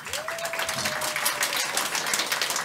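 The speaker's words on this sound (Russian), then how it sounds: "Вам аплодируют." Audience applause for a children's percussion ensemble, a steady broadband patter of many hands clapping throughout, moderately loud and continuous with no pauses.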